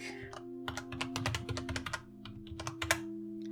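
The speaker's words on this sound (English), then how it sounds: "I'm literally typing what you said" Computer keyboard typing in quick, uneven bursts of close clicks and taps, with a low steady hum underneath and brief faint voice sounds.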